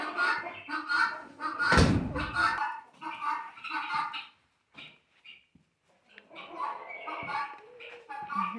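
Chickens cluck and squawk close by in uneven bursts, with a short quiet gap partway through and a dull thump early on.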